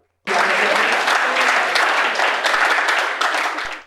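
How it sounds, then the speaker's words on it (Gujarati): Audience applause at a women's poetry recitation event in Gandhinagar: a dense, loud burst of clapping that starts abruptly, holds steady for about three and a half seconds, then fades out, with no talk over it. "જોરદાર તાળીઓ"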